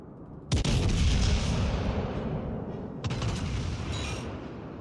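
Battleship front guns fire in World of Warships near a Nagato and an Iowa: a heavy booming salvo lands at once, then rumbles on, and a second blast follows about two and a half seconds later.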